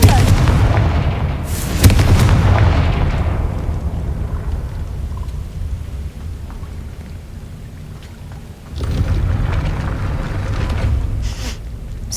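Confringo blasting spell explosions in the Hogwarts Legacy video game, a loud burst up front that decays into a long rumbling tail, then a second crackling blast rolling in later.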